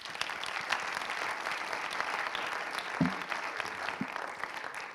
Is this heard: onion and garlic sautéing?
no